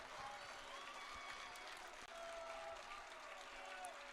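Crowd at a Perkins versus Lake Catholic Division 4 state championship baseball game in Akron breaking into sustained applause, a steady wash of clapping and crowd noise that fills the whole stretch.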